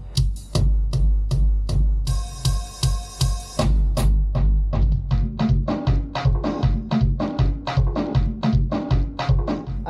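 A close drum pattern with crisp hi-hat ticks over kick and snare, briefly joined by a bright sustained chord before the groove continues.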